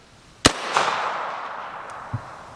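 An AR-10 rifle fires a single round: one sharp, loud crack followed by a long echoing decay and a faint metallic click shortly after.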